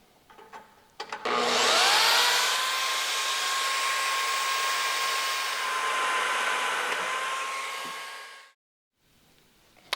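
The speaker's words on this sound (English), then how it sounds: "cut another 45 on our other strut" A power tool spins up and cuts a 45-degree angle through metal strut, a loud sustained whining buzz with a steady pitch that runs several seconds, then stops abruptly into near silence.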